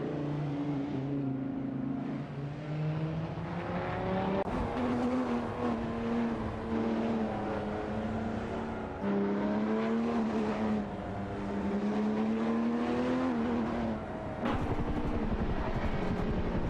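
Dodge Viper GTS race cars howl through a racing video game, with engine notes rising and falling steadily through gear changes at close range, loud and continuous, with no speech.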